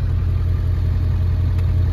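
A 1999-2003 Ford F350 engine idles steadily while warming up, a loud, even low rumble that carries on alone without variation.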